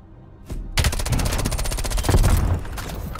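Rapid automatic gunfire in Call of Duty: Black Ops Cold War, a loud, close, continuous burst of evenly spaced shots lasting nearly three seconds.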